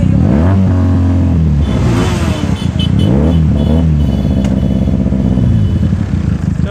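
A Benelli TNT 300 motorcycle with a very loud aftermarket exhaust revs hard on a night ride, its engine note rising and falling through several throttle blips and sustained pulls, recorded close and loud from onboard with no talk.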